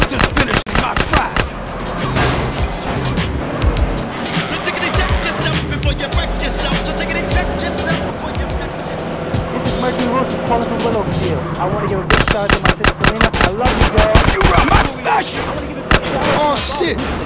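Gunfire in a drive-by in the video game Grand Theft Auto: San Andreas, loud rapid bursts of shots over game music and engine noise, with characters talking throughout.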